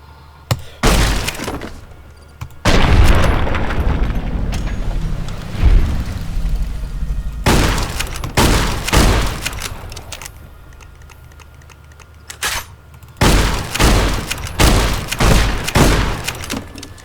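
Bursts of loud gunfire and booming impacts come from the video game Fallout: New Vegas, several clusters of sharp shots separated by quieter stretches of rumbling ambience.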